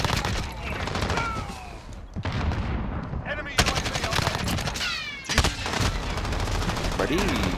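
Rapid automatic gunfire bursts from Call of Duty Modern Warfare gameplay, loud and near, with repeated volleys and sharp shots filling the whole stretch over a busy game mix.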